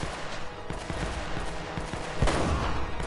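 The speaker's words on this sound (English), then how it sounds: "Aim the hand cannon." Rapid bursts of hand cannon gunfire from Uncharted: The Nathan Drake Collection rattle in quick succession over a steady background hum, fairly muffled.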